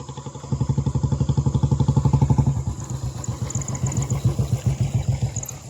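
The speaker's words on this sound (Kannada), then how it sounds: "ನೋಡ್ರಿ ಬುಲೆಟ್ ಹೊಡ್ಯಾಕತ್ತಾನ್ರಿ" A Royal Enfield Bullet motorcycle thumps along close by, its single-cylinder beat loud and rhythmic, steady throughout as it is ridden on a village road.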